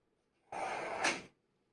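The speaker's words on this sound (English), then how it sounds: "Let me close this door." An interior door swung shut in a quiet room, a single close thud-and-rub lasting under a second with a sharper latch click near the end, alone with no talk.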